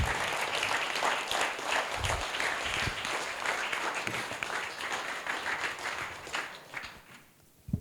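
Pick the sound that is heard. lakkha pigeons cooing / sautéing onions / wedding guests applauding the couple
wedding guests applauding the couple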